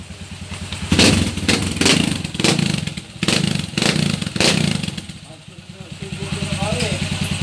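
A Honda TMX125 Alpha motorcycle converted to 175cc runs close by with a loud, rough exhaust from a noisy muffler, idling steadily and surging in several short bursts.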